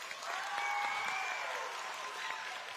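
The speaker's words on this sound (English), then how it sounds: "can we also give them a round of applause?" Steady, continuous crowd clapping for students at an Orange County math bee, sustained without pause throughout, with faint voices mixed into the room.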